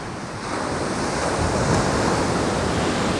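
Sea waves splash and wash against a breakwater on the coast near Sochi, a loud continuous roar of surf mixed with gusting wind buffeting the microphone, with no voices.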